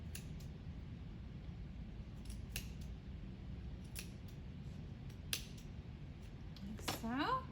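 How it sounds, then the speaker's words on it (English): Scissors snip into folds of yarn in a quiet room, a series of crisp, close, irregular cuts, with a voice briefly heard at the end. "Then I'm going to cut into the folds"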